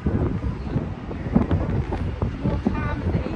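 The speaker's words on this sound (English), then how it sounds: "It's windy out." Gusty wind buffets the microphone outdoors at night in Las Vegas, with rumbling low bursts rising and falling, and faint voices mixed in underneath.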